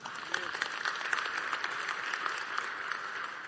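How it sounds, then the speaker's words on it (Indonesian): A church congregation applauding during a sermon, a faint, steady patter of clapping heard from a distance, with a voice speaking over it. "Tepuk tangan."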